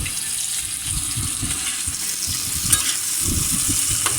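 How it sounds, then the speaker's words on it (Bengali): Nigella seeds frying in hot oil in a pan for a fish curry, giving a continuous close, crackling sizzle with small pops and bubbling throughout. "তেলটা গরম হওয়ার পর কালো জিরে দিয়ে দিলাম"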